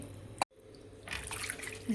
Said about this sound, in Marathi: नको खळखळ धुवून घेते कारले